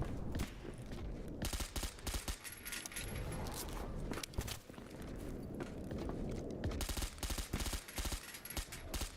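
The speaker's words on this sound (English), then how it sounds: "Oh, wait, someone's shooting." Rapid bursts of gunfire from the STALKER GAMMA video game, with crackling volleys and scattered single shots, some nearby and some farther off, continuing steadily with brief gaps.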